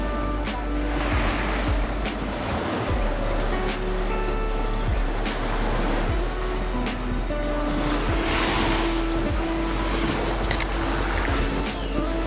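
Sea waves at high tide wash steadily around Marcos Island in the Hundred Islands, Pangasinan, making a continuous, fairly close rushing surf with no one speaking over it.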